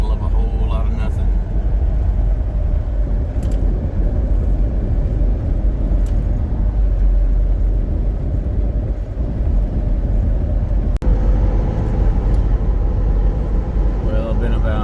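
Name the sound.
car driving on highway near Guymon, Oklahoma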